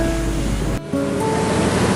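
Surf rolls in at Talaga Beach on Buru Island in Maluku, a loud, continuous roar of close waves with a brief dip in the wash before it swells again.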